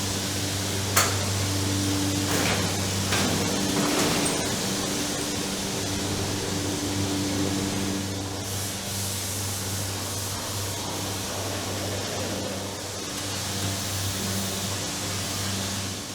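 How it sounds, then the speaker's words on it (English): A hatchery egg vaccination machine runs with a loud, steady mechanical hum and hiss, steady tonal drones underneath, and a few sharp clicks and knocks early on, with no voices. "the eggs are passed through a machine to vaccinate them"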